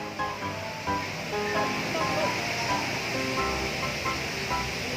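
A waterfall at a fish-viewing spot by a temple in Nakhon Pathom gives a steady, moderately loud rush of falling water, with people talking over it.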